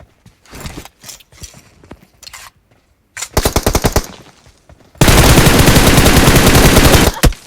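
Gunfire in a video game shooter: scattered single shots and short bursts, then a dense, loud sustained stream of automatic fire lasting a couple of seconds, heard close and without speech.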